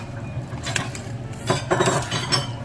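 A utensil stirs coconut milk into a cooking pan with garlic, onion, shrimp paste and fried pork, producing close scraping and soft clinks of metal against the pan over a low background hum.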